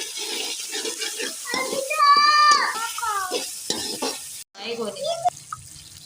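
Chicken with garlic frying and being stirred in a pan, giving a steady sizzle with scraping stir strokes, while someone talks over it throughout.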